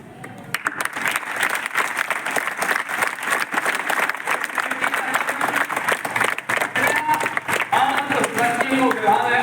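An audience claps at an Arya Samaj awareness gathering, a steady crowd applause that runs the full length at close range, with a voice talking faintly underneath.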